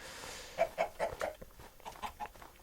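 A chicken in the video game Minecraft clucks in a quick series of short, clipped, close bursts, several in a row then a looser run, with no talk over them.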